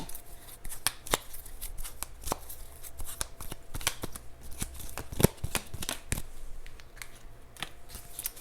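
A deck of Lover's Oracle cards being shuffled, with crisp riffling slaps and flicks coming in irregular bursts over about eight seconds, close by in a quiet room with no talking.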